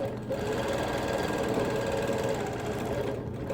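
A sewing machine quilts a quilt in one long continuous run, its fast, even needle chatter and motor hum holding steady without stops throughout, moderately close.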